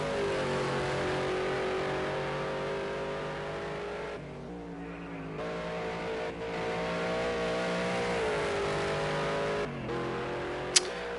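Mustang GT4 race car engine in Project Cars 2, a loud sustained roar rising and falling with gear changes and brief lifts, one sharp click near the end.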